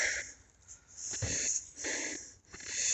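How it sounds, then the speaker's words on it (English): A newborn calf, a big bull calf just delivered, breathes with wet, wheezy gurgling snorts in uneven bursts, loud and close, with no talk over it. "he's breathing, he's gurgling"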